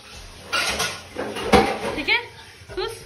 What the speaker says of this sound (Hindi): पीछे से बर्तन की बहुत ज़्यादा आवाज़ आ रही थी